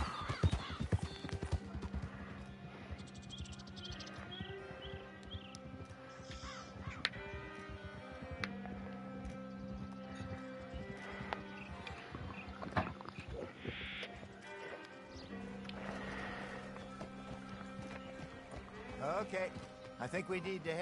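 Hooves of a large horse clip-clop at a steady pace in a hunting video game set in open landscape, mixed with crow caws and bird calls, under someone talking excitedly throughout.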